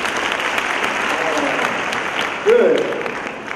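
Audience clapping at an International Women's Day gathering, a dense continuous wash of hands with a brief voice rising over it partway through.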